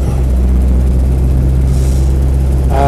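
A Land Rover 110 with a 2.5 diesel engine runs close by in a loud, steady, low rumbling idle with no throttle changes.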